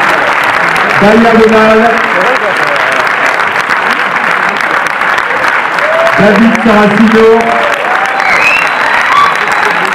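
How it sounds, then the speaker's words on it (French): An audience at a film presentation applauds the cast of the heist movie as they are introduced: sustained, loud, dense clapping throughout while a presenter's amplified voice reads out names over it. "Allez, on peut les applaudir"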